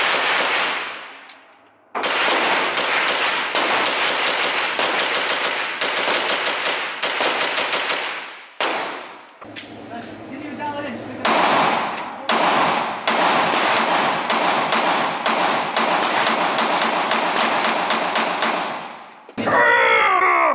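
AK-V rifle fire at a shooting range, long loud bursts of rapid close shots separated by short pauses, with one quieter stretch of a few seconds in the middle.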